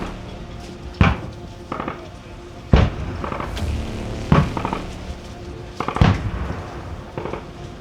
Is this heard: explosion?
yes